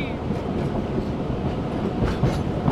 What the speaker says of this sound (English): It's quite a noisy train.